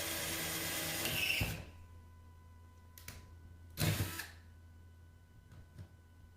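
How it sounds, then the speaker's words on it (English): A power drill boring holes through a cracked fiberglass bathtub, a whining burst at the start followed by two shorter drilling bursts, fairly faint, with quiet gaps between. "We're going to start by drilling holes on either side of the crack."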